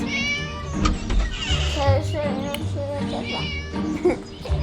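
A cat meows repeatedly inside the horror video game Scary Teacher, its cries close and clear, rising and falling over game music and background effects.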